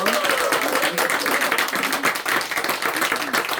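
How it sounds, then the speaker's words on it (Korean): A church congregation at a New Year's Eve service claps in a brisk, dense round of applause, close and fairly loud, with some faint voices running underneath. "우리 그렇게 충성된 우리 그 성도님들 위해서 우리 박수 한번 해드리겠습니다"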